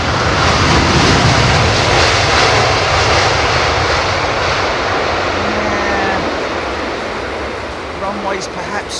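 An airliner lands on a wet runway at London Heathrow Airport, its loud, broad jet roar and spray rush filling the whole span and slowly easing off toward the end, with faint talk underneath.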